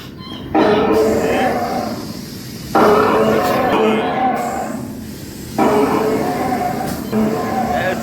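A train rumbles steadily with rattling wheels and rhythmic clatter, loud and close, while voices talk over the noise in bursts; heard riding a small train through trees at Kaneri Math, Kolhapur.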